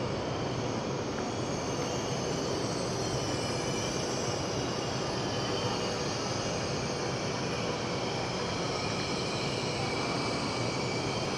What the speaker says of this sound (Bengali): আমাদের ট্রেন কিন্তু চলে আসলো